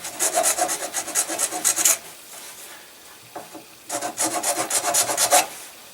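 A triangular file rasps back and forth through a groove in a PVC bow, a rhythmic run of quick scraping strokes, a short pause with a faint scrape, then another steady burst of filing, close and clear.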